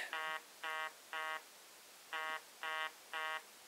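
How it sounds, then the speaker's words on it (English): A telephone rings indoors in two bursts of three short, evenly spaced electronic tones, fairly faint with a quiet background. "the phone always goes off when I'm filming"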